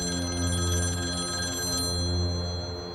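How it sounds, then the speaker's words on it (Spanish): Telephone bell ringing steadily and close in an otherwise quiet room, a continuous electronic ring with no voices. "En los angustiosos días siguientes, el señor Portela recibió varias llamadas"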